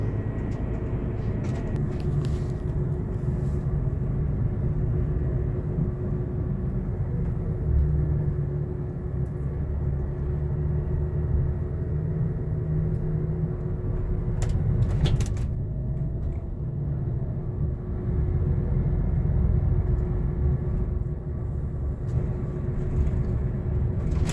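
A bus travelling through Switzerland near Geneva gives a steady, close low rumble of engine and road noise with a faint hum, continuous and unbroken, with no talking.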